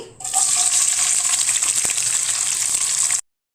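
Ivy gourd pieces hit hot oil in a pan and fry with a loud, steady sizzle that runs for about three seconds before cutting off abruptly.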